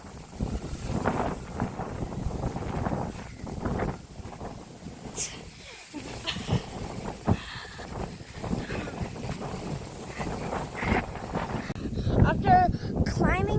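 Wind gusting through a breezy open area near sand dunes, buffeting the microphone in rough bursts throughout, with a brief lull midway.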